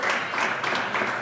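A church congregation claps hands in praise during a worship service, a dense, steady patter of many hands that is close and fairly loud, lasting only a moment.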